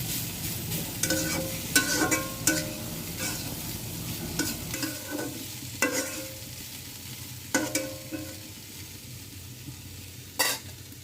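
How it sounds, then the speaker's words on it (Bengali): Teasel gourd (ustha) being stirred in a pot with the lid lifted, a soft background sizzle broken by repeated scraping and clanking strokes of a spoon, close and fairly loud. "একটু নাড়াচাড়া দিয়ে আবার ঢেকে রাখবেন"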